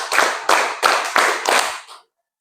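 A classroom group at an Islamic university teacher-training session performing a rhythmic 'tepuk' clapping routine, five sharp, evenly spaced loud claps from many hands, each ringing briefly before the next, then a fade into silence.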